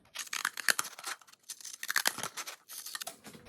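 Scissors snip through a cup along a marked line in close, crisp bursts of cutting and crinkling, fairly quiet, with short pauses between the cuts.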